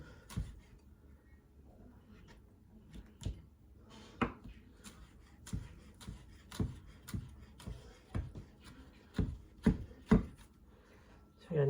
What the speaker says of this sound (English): So I'm just gonna roll these up, bunch them together, put my knife through them.